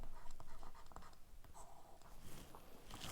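Faint scratching strokes of writing on a board during a history lecture, short repeated scrapes with brief pauses, quiet and close, with no speech over them.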